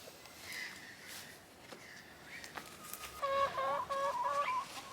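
Chickens in a portable backyard coop cluck and call softly, with scattered short clucks early on and a brighter run of repeated, tonal calls near the end, all fairly close and quiet, without speech.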